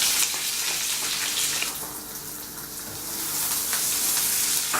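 Onions sizzle in hot oil where mustard seeds have already popped: a loud, hissing fry that dips briefly in the middle, then swells back up.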